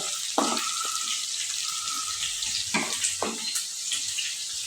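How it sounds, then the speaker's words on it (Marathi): Okra with garlic and cumin sautéing in a pan for a simple bhindi bhaji, a continuous close sizzle broken by a few scraping stirs and clanks against the pan, with no talking. "त्याला आता आपण मस्तपैकी परतून घेऊया"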